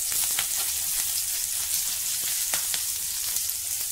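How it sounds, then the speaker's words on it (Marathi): Green chilies sauté in hot oil in a pan, giving a dense, even hiss of frying that stays steady throughout, dotted with faint pops and light crackles. "त्यानंतर चवीनुसार मिरची, मिरच्या व्यवस्थित परतवून घेऊ."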